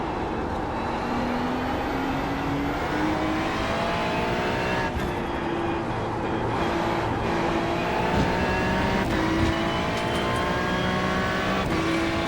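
Ferrari GT3 race car at Spa-Francorchamps in iRacing, its engine loud and constant throughout as it revs up through the gears with repeated rising pitch sweeps and brief shifts, no talking.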